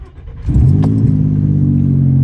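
A 2006 Nissan Frontier SE 4x4 crew cab engine, with a patched muffler, cranks briefly and catches, then settles into a loud, steady idle up close.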